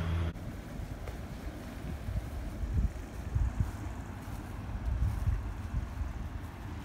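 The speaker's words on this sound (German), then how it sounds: "Ich bin hier schön am Kanal spazieren und es ist sehr windig." Strong wind on a canal-side walk buffets the microphone in gusty, low rumbling bursts that rise and fall for about seven seconds, loud and close, with no voices.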